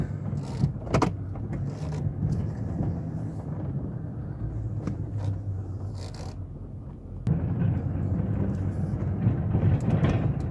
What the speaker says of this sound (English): It's not hard to plow this stuff.